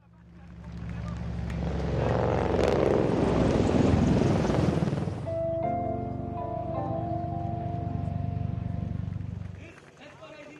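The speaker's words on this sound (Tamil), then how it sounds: "அப்பாச்சி போர் ஹெலிகாப்டர்கள் இந்திய விமானப்படையில் இணைக்கப்பட்டன" A Boeing Apache attack helicopter's rotor roar swells loudly nearby, then gives way to a steady turbine whine, with a voice speaking over it.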